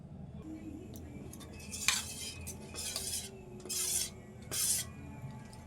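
A spoon stirs and mixes thin dosa batter made from dry flour in a bowl, with repeated close scraping and sloshing strokes in bursts, over a low background hum and no talking.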